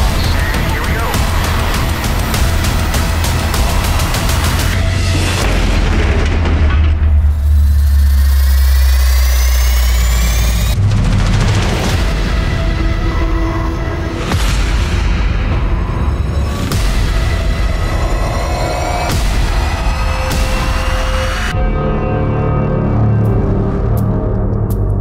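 An anti-terrorism vehicle crash test into an ännt M30 bollard outdoors: a loud engine roar builds, then heavy booming impacts and crunching metal debris follow, with faint voices in the background.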